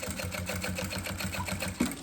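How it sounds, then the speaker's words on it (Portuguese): Sewing machine stitching a synthetic travel toiletry bag, running in a steady, rapid needle rhythm throughout, close and continuous with one brief louder knock near the end. "E costurando, ó."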